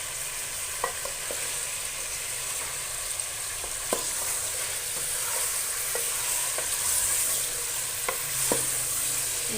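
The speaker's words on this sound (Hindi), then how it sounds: "चिकन को मैंने ऑयल में फ्राई करके इसको अच्छे से फ्राई कर लेना आपने चिकन को ऑयल में।" Chicken frying in oil for a degi chicken qorma, a continuous soft sizzle with occasional sharp clicks of stirring against the pot, steady and fairly close, no talking.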